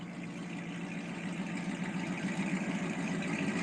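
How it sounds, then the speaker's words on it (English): A car engine idles steadily with a continuous low rumble and faint mechanical texture, heard at moderate distance with no talk over it. "Sounds damn good sitting there idling."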